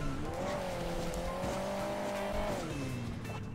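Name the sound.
car engine revving in Hill Climb Racing 2 video game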